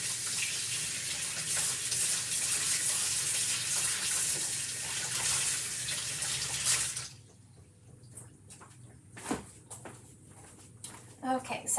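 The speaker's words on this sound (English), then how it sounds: "I've been rinsing my transfers right away" Craft transfers being rinsed under running tap water, a steady hiss of water for about seven seconds that then stops, followed by quieter handling clatter, with a person talking over it.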